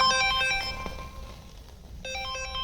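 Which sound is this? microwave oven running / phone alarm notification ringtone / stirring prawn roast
phone alarm notification ringtone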